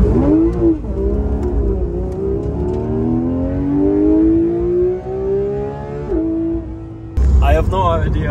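A Porsche GT3 RS engine revs hard in the mountains, a loud, close rising wail that climbs steadily for several seconds, drops off, then bursts into a fresh sharp rev at the end.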